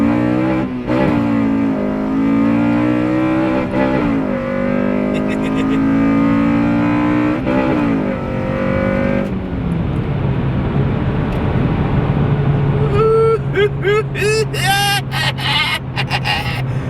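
A 9th-generation Honda Civic Si on its stock exhaust revs up and holds loud engine tones that rise and fall, then drops to a rougher rumble, with chirpy high sounds near the end.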